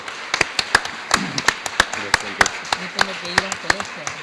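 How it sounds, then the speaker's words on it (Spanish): Scattered, uneven claps from a small seminar audience applauding the panelists, a dozen or so sharp hand claps spread over a few seconds, with low murmuring voices underneath. "le voy a pedir un fuerte aplauso para los panelistas"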